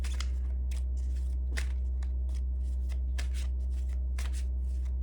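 Oracle cards shuffled by hand in quick bursts of riffling and sliding, close and crisp over a steady low hum, with no speech.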